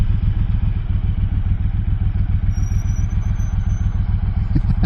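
A Triumph Thunderbird 1600 motorcycle engine runs close up with a steady, throbbing low pulse and mechanical clatter, loud and unbroken throughout.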